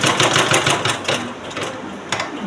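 An electric sewing machine stitches a blouse, running in a fast continuous rattling whir with slight surges and a brief pause, close and fairly loud, with no talking.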